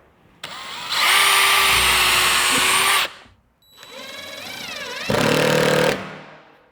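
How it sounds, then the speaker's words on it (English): A power drill pre-drilling a 1/8 inch hole whines loudly for about two seconds, stops, then runs again, rising in pitch as it bites into the material during a wall heater install. "I'm going to pre-drill a 1/8 inch hole."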